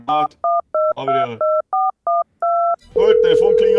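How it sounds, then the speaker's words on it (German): A phone rings in Farming Simulator 22 as a series of about nine short, loud two-tone electronic beeps in an even rhythm, followed by a steady hum with a voice speaking over it. "Gut, Telefon klingelt."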